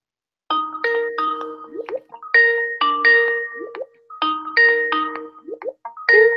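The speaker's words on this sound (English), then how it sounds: "Yeah, it's ringing." A phone rings on an outgoing call with a melodic, chiming ring pattern heard three times in a row, clear and close, with short silent gaps and no talking.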